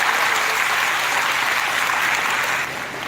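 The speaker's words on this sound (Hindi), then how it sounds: "तालियां जरा जोर से बजनी चाहिए आपको।" An audience at a college gathering applauds teachers of the arts faculty's departments. The clapping is dense and steady, tapering a little near the end.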